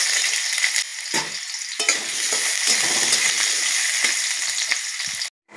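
Potatoes frying in hot mustard oil in a kadai give a loud, steady sizzle close by, broken by the scrape and clatter of stirring, with no talking.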